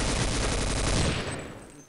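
Rapid automatic gunfire in the Counter-Strike video game, a dense, loud burst of shots aimed at a teammate that fades out toward the end.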